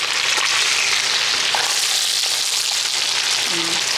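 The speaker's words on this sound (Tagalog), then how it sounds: "para maigisa natin ang bawang at sibuyas" Onion and garlic fry in pork fat in a pan, giving a loud, dense, continuous sizzle heard up close.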